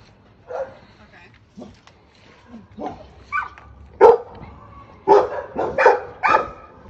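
Dogs, including a puppy, bark and yip in short scattered bursts at a property, growing louder and more frequent toward the end, with faint talk in the background.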